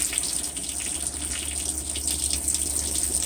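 Water runs steadily from an RV faucet during winterization, a loud, continuous close-up gush and hiss that keeps going without a break and has no voices over it.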